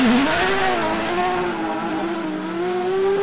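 A new-generation 4-litre rally car engine revs loudly and steadily up close, its tone rising and settling in a sustained high-pitched howl with no voices.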